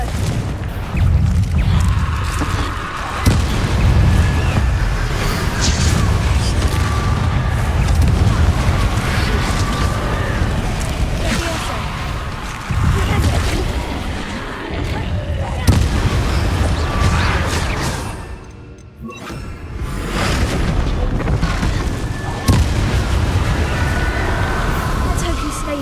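Repeated Confringo spell explosions and booming combat in the game Hogwarts Legacy, heavy low blasts rolling one after another across a dense battle soundscape, with a brief lull near the end and talk over it.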